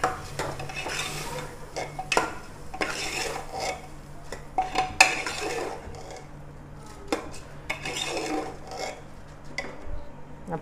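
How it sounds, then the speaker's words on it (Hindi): Rice is stirred inside a pressure cooker, with a spoon repeatedly scraping and clinking against the metal pot in irregular bursts, close and moderately loud. "अब इनको मिक्स कर लूंगी।"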